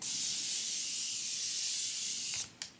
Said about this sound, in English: I am about to spray my face